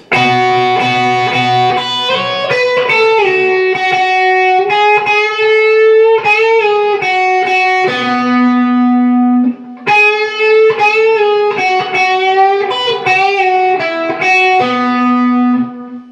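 A distorted electric guitar plays the outro lick of a song with bends and sustained notes, pausing briefly before repeating the phrase, loud and up close.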